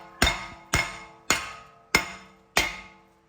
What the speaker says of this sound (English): So just go ahead and smash the rotor itself.